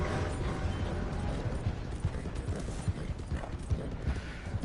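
A horse's hooves clip-clop at a steady walking pace in a cowboy video game, close and distinct, with creaking tack and faint mechanical noises beneath the rhythmic beats.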